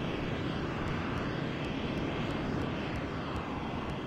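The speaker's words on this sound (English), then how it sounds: "I see your plane. Plane's flying." A bomber plane in the strategy game Civilization flies with a steady, loud engine drone that holds evenly throughout, with no voices over it.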